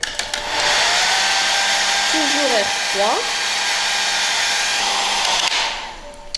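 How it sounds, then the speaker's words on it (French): A hair dryer blows steadily on wet tulle of an old bonnet from Touraine during restoration, a loud continuous whir that starts and stops, with brief speech partway through. "Je vais accélérer le séchage avec le sèche-cheveux."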